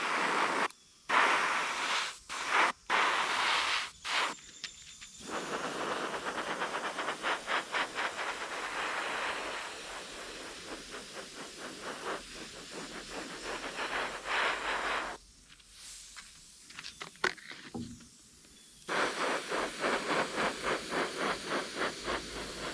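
An airbrush sprays paint in short bursts and longer passes onto a muskie fish replica, the hissing spray starting and stopping, interrupted by brief quiet gaps.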